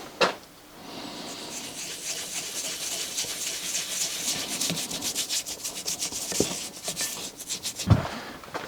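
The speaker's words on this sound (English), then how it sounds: "I just blasted it clean with brake cleaner." A spray of brake cleaner on a Citroën BX hydraulic pump part makes a long, close hissing rush with rubbing and scrubbing pulses, ending in a few sharper knocks.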